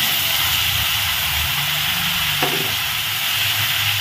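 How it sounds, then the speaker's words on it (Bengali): Tomato paste frying in a pan while being stirred: a steady, close hiss of sizzling throughout, with a soft scrape of the spoon midway and no talk. "টমেটো পেস্টটা একটু নাড়াচাড়া করে কষিয়ে নিলাম।"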